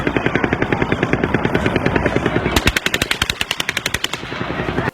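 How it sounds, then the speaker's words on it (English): Sustained automatic fire from an M240 30 caliber medium machine gun in recorded audio, loud rapid steady bursts of evenly spaced shots at a fixed cadence running throughout, growing sharper midway, no speech. "some of them are a dead nut ringer for a 240, which is a 30 caliber machine gun"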